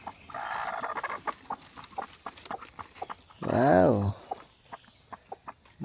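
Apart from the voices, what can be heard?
newly hatched chicks and hen clucking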